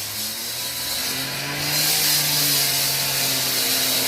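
Concrete is being cut with a saw somewhere nearby, a steady broadband grinding hiss with a faint hum beneath that swells louder partway through and carries on without a break.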